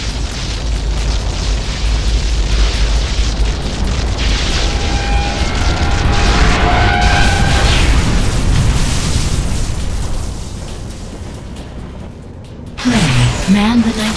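The core blows up in an Unreal Tournament 3 Warfare match, a long loud rumbling boom that roars for about ten seconds and fades before game voice announcements and effects cut in.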